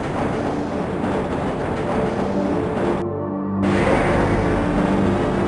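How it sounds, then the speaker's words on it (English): A Half-Life tram rolls steadily along its track inside the Black Mesa facility, with a continuous loud rumble and clatter and a brief drop partway through. "This train is inbound from Level 3 dormitories to Sector C test labs and control facilities."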